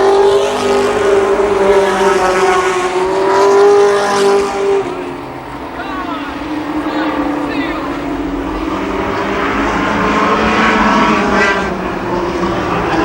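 Race cars roar continuously at Columbus Motor Speedway during a 1993 race, engines droning loud and steady with pitch sweeps as they pass, under a commentator's talk.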